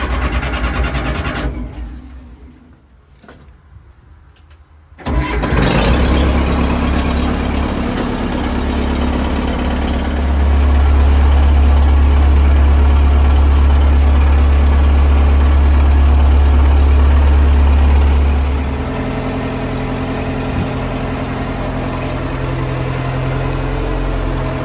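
A CAT 335 excavator's diesel engine cold-starts after a brief near-silent pause, catching with a loud rumble, then settles into a heavy, steady idle with a stretch of deeper, louder running in the middle before easing back.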